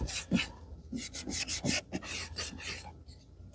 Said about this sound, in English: Make sure everything's adhered properly.